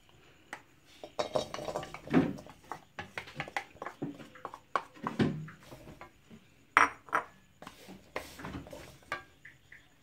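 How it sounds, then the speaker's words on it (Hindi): Lumps of jaggery drop into a metal pan on a gas flame for peanut chikki, giving scattered clinks, knocks and scrapes of a spoon against the pan, close and uneven. "मैंने गैस ऑन कर लिया है और मैं इसमें गुड़ डाल रही हूँ"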